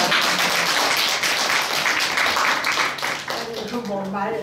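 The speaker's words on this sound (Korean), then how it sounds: "박수 보내드리겠습니다" A crowd at a fan meeting with a Korean paper-mulberry (dakjongi) artist claps loudly and warmly, the applause sustained for a few seconds before tapering off as a voice begins speaking.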